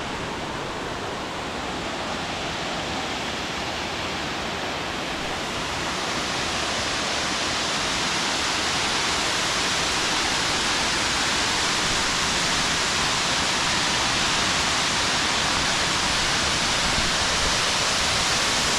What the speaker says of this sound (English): I'm going to let you guys hear the rain, or not the rain, sorry, but the waterfall